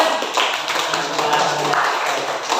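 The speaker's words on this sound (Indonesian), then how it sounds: "Sip, tepuk tangan." A group claps in applause, a dense patter of hand claps lasting the whole moment, mixed with some voices.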